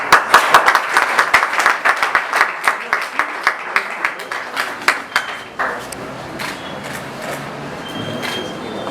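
Applause at a certificate ceremony, a room of people clapping in a rhythmic unison beat that gradually loosens and fades into scattered claps and murmuring crowd noise.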